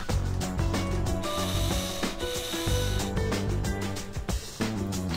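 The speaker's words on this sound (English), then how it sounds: "now we take out these screws" Screws being removed from a Colt 1911 pistol in the World of Guns video game, heard as a steady run of close, clicking ratchet and metallic turning noises, with a few sharper clacks.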